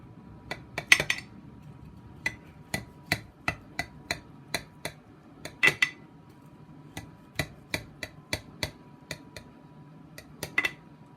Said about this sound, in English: I go ahead and just, you know, slice my meatloaf up